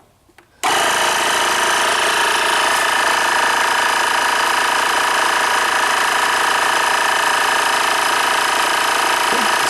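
AUTO-VOX 12V portable digital air compressor inflating a tire, switching on abruptly after a moment of near silence and then running with a loud, steady, buzzing mechanical drone, close up and without talk.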